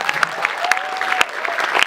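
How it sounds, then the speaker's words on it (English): A closing-ceremony audience at a Model United Nations conference applauds for the speaker's mother, a steady wash of clapping with a few sharp, close claps standing out over about two seconds. "please, a huge round of applause for my mother"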